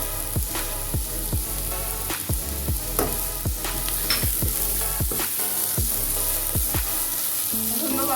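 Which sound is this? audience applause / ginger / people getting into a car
ginger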